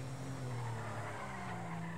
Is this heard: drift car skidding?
yes